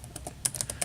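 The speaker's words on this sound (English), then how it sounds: "My keyboard is really loud on my end" Loud computer keyboard typing heard up close: a quick run of sharp, irregular key clacks with several harder strikes, no talking.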